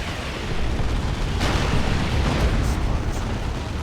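Artillery barrage in the real-time strategy game Warhammer 40,000: Dawn of War 2, Imperial Guard versus Orks; dense continuous rumbling explosions fill the whole stretch, loud and close, with no clear gaps.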